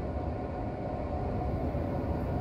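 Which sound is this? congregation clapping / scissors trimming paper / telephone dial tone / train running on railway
train running on railway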